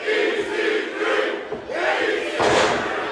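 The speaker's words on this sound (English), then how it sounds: "Crowd here in Lansing behind EC3" Wrestling arena crowd in Lansing roaring and cheering during a pro wrestling match, a dense sustained wall of voices with swells, the loudest burst near the end.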